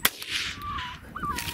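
A .22 Magnum rifle fires during an outdoor coyote hunt, one sharp crack at the start followed by a whip-like rustle and distant animal cries, with no talk.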